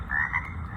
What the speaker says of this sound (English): froggy sounds.